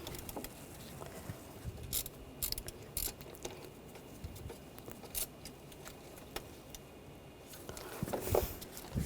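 Close ratchet clicking while tightening bolts on the boost control valve of a 2004–2009 Audi A4 Quattro 2.0L four-cylinder, with uneven bursts of ratcheting and mechanical taps running throughout and a louder flurry near the end.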